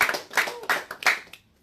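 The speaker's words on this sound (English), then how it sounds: "you can give them a hand, clap for them" An audience claps for travel team members at a live Nigerian talk event, a short burst of hand claps lasting over a second before fading to quiet.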